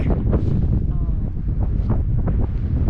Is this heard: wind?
yes